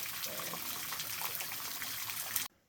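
A tiny waterfall in a gorge trickles and splashes in a steady, close wash of running water that cuts off abruptly.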